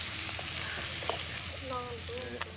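Onions browning in a pan give a faint, steady sizzle at low volume, with scattered light clicks and brief tonal sounds in the background.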